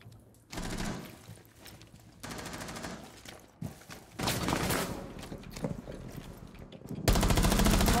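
Automatic weapon fire in Rainbow Six Siege, with rapid rattling bursts arriving in several separate volleys, mostly close and loud, the last one heaviest, with pauses of quieter game noise between them.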